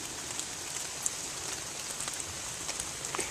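Steady rain falls outdoors in a wooded rabbit-hunting spot, a constant broadband hiss with scattered close drops tapping on surfaces, no voices.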